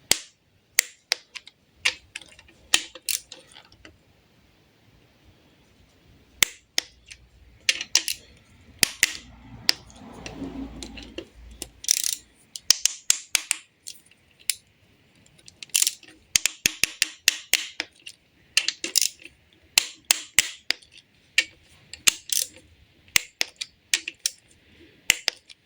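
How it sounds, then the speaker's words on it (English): Bolts being tightened on a Fiat 1.3 MultiJet engine block with a ratchet or torque wrench in two stages, giving sharp clicking bursts and clacks repeated in irregular clusters throughout, fairly close and distinct. "Now we have two phases of tightening of these bolts, 20 Newton meters and then 40 degrees."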